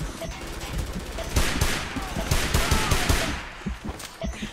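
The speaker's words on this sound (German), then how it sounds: "Au, au, au. Ich werde unter Beschuss genommen." Gunfire in the video game Frontlines: Fuel of War, a busy battlefield mix of rapid shots and bursts running continuously for several seconds, loud and dense with scattered impacts, and a voice briefly heard amid it.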